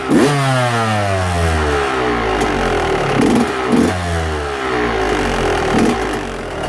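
A two-stroke motorcycle engine with a Nikasil-plated cylinder revs loudly and continuously, its pitch rising and falling through several throttle blips over a steady running drone, close up and alone.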